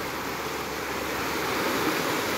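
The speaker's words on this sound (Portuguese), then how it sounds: "Olha o barulhinho. Barulhinho da cachoeira." Steady rushing water from a small waterfall, Cachoeira do Ipiranguinha in Ubatuba, Brazil, flows continuously with an even, hissing texture throughout.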